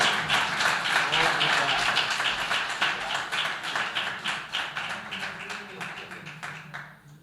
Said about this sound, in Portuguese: eu peço a você que, se puder, aplauda ao Senhor pela vida do pastor César